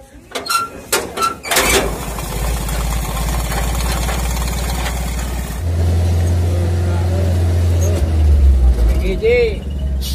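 An old, legendary work truck's engine idles and then is revved hard, a steady low rumble swelling into a louder sustained roar, with voices talking over it at the start.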